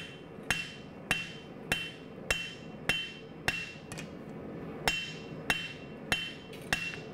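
A hammer strikes steel during the forging of a barong blade, making about ten sharp ringing blows at a steady, evenly spaced rhythm, loud and close, with no talk.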